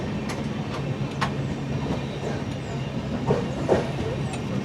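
A train on the Chennai to Chengannur route rolls around a curve, with soft rhythmic wheel clatter, occasional sharp squeals and hiss from the rails, heard from inside the coach at moderate distance.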